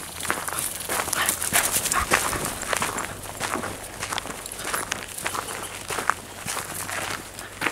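A dog gives a few short barks at a squirrel amid rustling footsteps outdoors on a trail at St Peters Dome, Colorado Springs, the sounds moderately close and irregular against a constant low hum.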